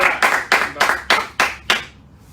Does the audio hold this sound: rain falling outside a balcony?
no